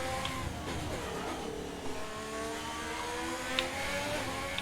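Two F1 2020 race cars in the video game run side by side, engines whining and revving steadily with shifting pitch, up close and continuous with no talk.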